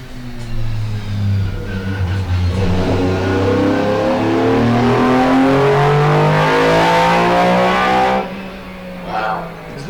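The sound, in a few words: historic race car engine revving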